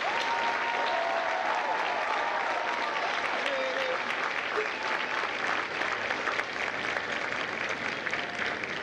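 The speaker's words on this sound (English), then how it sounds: "please join me in a round of applause for the company staff of India Company" Audience applause at a U.S. Marine Corps recruit graduation ceremony at MCRD San Diego, dense sustained clapping from a large crowd filling the space evenly, with a few faint voices mixed in.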